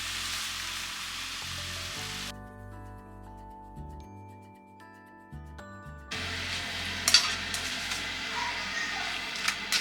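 Udon noodles, tofu and bok choy frying in a pan: a soft sizzle fades into a quiet stretch with steady tones, then a brighter, louder crackle of frying returns with a few small clinks.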